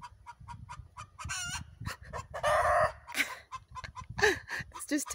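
Close chickens cluck in rapid, overlapping bursts as a rooster lets out a loud, sustained crow in the middle, followed by more squawking calls.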